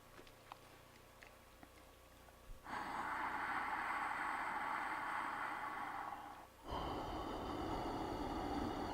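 Ujjayi ocean-sound breathing during a yoga flow class, with two long, steady, hissing breaths, the second following a brief pause, close and fairly quiet with no talking.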